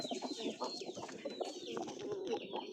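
Soft, repeated pigeon coos close by, low and throaty, with a few other bird calls mixed in.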